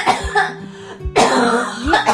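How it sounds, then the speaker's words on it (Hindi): A person coughs loudly and repeatedly up close inside a hut, rough hacking bursts with throat-clearing between them. "झोपड़ी से उसको खांसने की आवाज आती है।"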